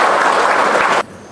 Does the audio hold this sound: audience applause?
yes